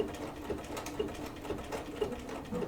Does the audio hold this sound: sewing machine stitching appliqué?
yes